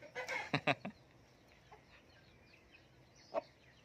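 A fighting rooster on a gamecock farm gives a short burst of clucks, a few sharp close calls in quick succession, then quiet, then one more lone cluck.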